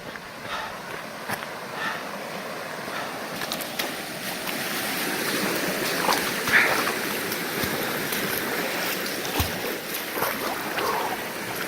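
Footsteps wading through a cold creek crossing on a hiking loop, steady splashing and sloshing of water around the feet over the rushing flow of the stream, fairly close and continuous with no talking.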